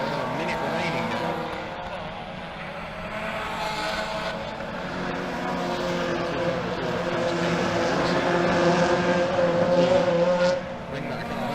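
Miata Trophy race car lapping Cadwell Park, a steady engine drone that swells toward the end of the lap, with a commentator talking over it throughout.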